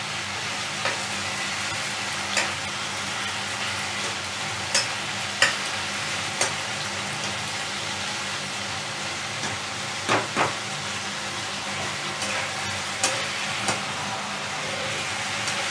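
A softened tomato mixture stirred and fried in a pan on high gas, a continuous close sizzle with occasional sharp scrapes and taps of the spoon at irregular intervals.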